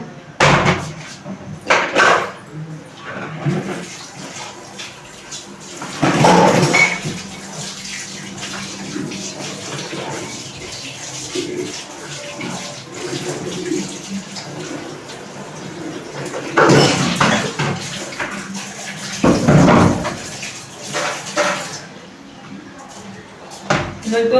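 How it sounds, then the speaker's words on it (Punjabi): Vegetables being washed in water in a home kitchen, with splashing and running-water bursts that come and go, a few clunks and handling knocks, and a voice talking at times between the washing sounds. "ਸਬਜ਼ੀ ਧੋ ਹੈ ਜੀ ਹੁਣ"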